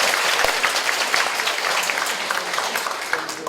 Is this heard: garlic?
no